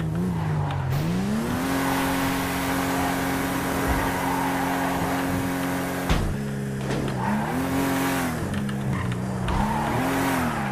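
An electric car driven hard in the GTA NoPixel game, with a loud continuous electric motor whine rising and falling in pitch as it accelerates, plus brief tire squeals and skids, no speech.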